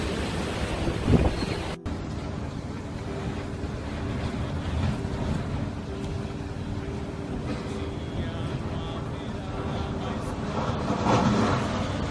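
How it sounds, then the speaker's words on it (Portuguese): Strong gusting wind roars steadily and loudly, a thick rushing noise with a sharp buffet near the start and swelling surges toward the end. "Meu Deus! Caracas! Que ventania!"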